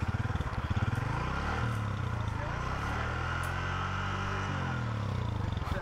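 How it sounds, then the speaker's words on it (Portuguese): A motorcycle engine revs in neutral, its throttle blipped in uneven bursts over a steady idle, close and loud. "tentando acelerar, moto no neutro"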